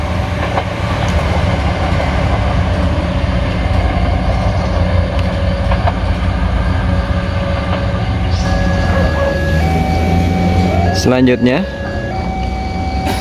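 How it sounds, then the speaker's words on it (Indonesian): A commuter train bound for Padalarang rolls past close by with a loud, continuous rumble and rail clatter. Brief tones and a short spoken word sound near the end. "Selamat jalan kereta api komuter lain, semoga lancar selamat sampai tujuan."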